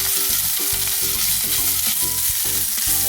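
Ginger garlic paste fries with onions in a pan for a pepper chicken curry, a loud, constant sizzle with rhythmic stirring strokes repeating about every half second.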